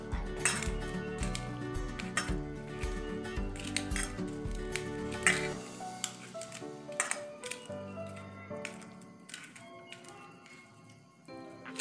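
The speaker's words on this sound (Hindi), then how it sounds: "आलू और गोभी को इसे मिक्स कर देंगे" Potato and cauliflower being mixed in a bowl, close clinks and scrapes of a utensil against the bowl repeating in quick bursts over a faint background, quieter in the second half, with no talk.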